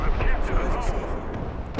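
Tank gunfire in the video game Operation W.I.N.T.E.R.: a loud, heavy booming rumble with crackling debris that fills the whole short moment without a break.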